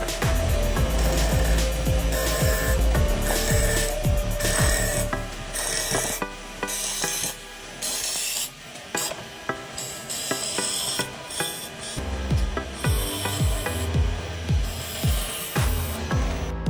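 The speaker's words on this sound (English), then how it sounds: "The powerful cutting system reduces them into smaller pieces, making them easier to handle and recycle." A powerful machine cutting system shreds tough materials into smaller pieces for recycling, giving a loud, continuous rasping and grinding roar with shifting intensity and brief dips before the churning resumes.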